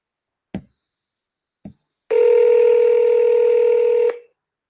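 Two brief clicks precede a loud, steady telephone dial tone that holds for about two seconds before cutting off, heard alone with no voices.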